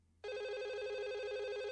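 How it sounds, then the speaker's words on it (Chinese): A telephone starts ringing abruptly after a brief quiet moment, a steady electronic bell tone held without a break, fairly close and clear with no talk over it. "哎呦，来电话"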